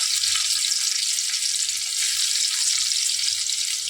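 Garlic pieces sizzling in very hot oil over a high gas flame, a dense, bright, continuous crackle that stays loud and even with no voices.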